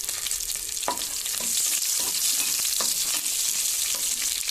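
Whole shallots sautéing in hot oil with popped mustard seeds give a bright, continuous sizzle, broken by several sharp spatula scrapes against the pot, up close.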